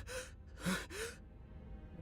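Sinclair, a character in the video game Limbus Company, gasps for air in a few short, strained breaths, one sharp intake standing out, followed by quiet.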